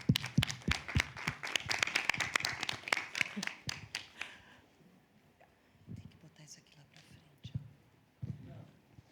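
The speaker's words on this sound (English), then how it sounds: "A big round of applause for yourselves." Workshop audience clapping together in a room: a dense burst of applause for about four seconds that thins out to scattered claps, followed by murmuring voices and quiet room noise.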